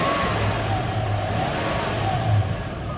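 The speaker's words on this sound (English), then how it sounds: "So you can rev it, and you'll most likely see more air coming up into your spill-free funnel." Toyota 2UZ-FE 4.7-litre V8, stationary with a coolant funnel fitted, is revved with a steady, close engine roar that swells slightly near the end, with no talking over it.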